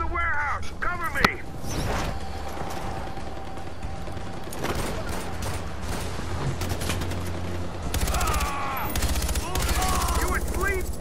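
Sustained gunfire in Far Cry 4, rapid automatic bursts and single shots crackling through combat, with voices calling out over the shooting throughout.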